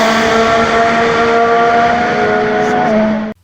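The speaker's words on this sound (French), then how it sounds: "Mesdames et messieurs, démarrez vos moteurs, c'est un départ." Race car engines roar at the start of a W Series race, with a loud, sustained high-pitched engine whine that shifts slightly in pitch before cutting off abruptly at the end.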